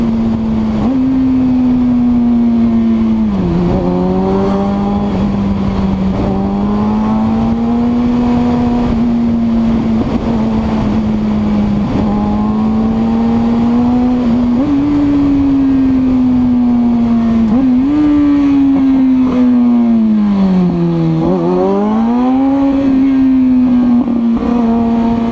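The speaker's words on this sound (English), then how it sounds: "riding a motorbike at speed, try doing it at night with traffic" A motorbike races through traffic at night, its loud, close engine whine holding steady with repeated rises and dips in pitch as the rider shifts and accelerates, with no voices.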